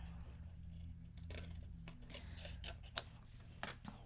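Scissors cut pieces out of card stock for a handmade card, a quiet run of small snips and rustles over a low steady hum, with a couple of sharper clicks near the end.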